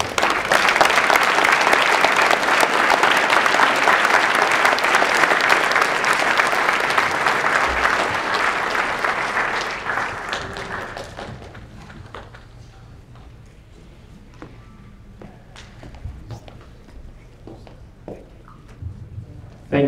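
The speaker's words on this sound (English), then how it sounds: "I would like for your warm and gracious applause" Warm audience applause welcoming Grand Master Don Wilson at a kickboxing world classic event, sustained and full for about ten seconds before thinning to scattered claps, with a few faint voices in the hall.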